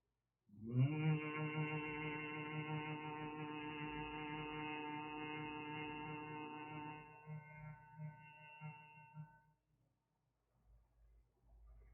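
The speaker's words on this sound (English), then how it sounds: "start the gentle humming sound, long, deep, and large." A long, deep, steady hum held by one voice during meditation, starting abruptly and sustained for about nine seconds before fading out.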